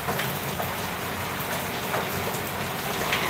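Heavy rain pours down nonstop in a dense, even hiss of drops striking surfaces, close and loud with no voices.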